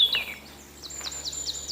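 A small bird in a wood gives a series of short, bright, descending chirping calls, fairly close and clear, repeating at a quick, even rhythm over quiet background.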